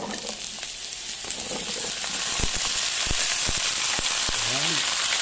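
Vegetables and shrimp frying in a pan, a steady loud sizzle with crackling bursts and the scrape of stirring throughout; a faint voice speaks partway through.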